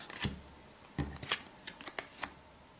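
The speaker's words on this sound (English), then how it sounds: "there's no more good cards, so we shuffle and replace" A deck of cards for the board game Targi is shuffled quietly at close range, with several crisp riffling bursts separated by short pauses.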